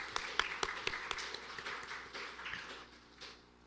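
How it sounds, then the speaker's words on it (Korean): Scattered applause from a church congregation during a Sunday morning worship service, a few sharp claps rising into a brief, moderate patter that thins and fades out by the end. "우리가 박수 해드리도록"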